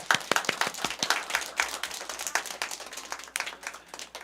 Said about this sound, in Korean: 우리 다시 한번 축하의 박수를